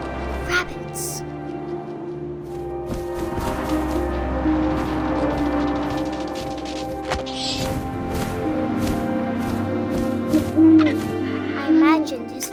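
An owl hooting in the game What Remains of Edith Finch, with soft tonal hoots rising over wind, rustling and an ambient music bed while a voice narrates throughout.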